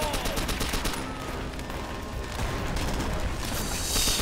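Gunfire in the video game Call of Duty: World at War, loud dense bursts of rapid shots and rattling automatic fire, continuous and close with no pause.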